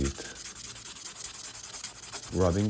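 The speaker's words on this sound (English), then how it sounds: "the sanding blocks are from AliExpress, and you just do this like rubbing" Close, rhythmic rubbing of a sanding block on a steel Seiko watch case, repeated gritty strokes, with a brief voice near the end.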